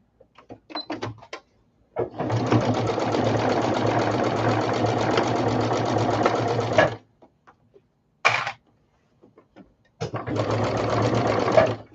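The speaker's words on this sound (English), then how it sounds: "So I just put a clip and I line it up, and we will sew 1/4 of an inch." A sewing machine stitches a quarter-inch seam in a steady continuous run of about five seconds, then stops, gives a brief burst, and starts up again, with light handling clicks in between.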